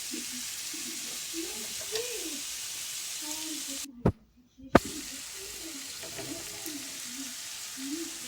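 Lamb liver being stirred with lemon juice in a hot pan for tawa kaleji, a steady soft sizzle with light scraping and stirring, interrupted by a brief silent gap with two sharp clicks.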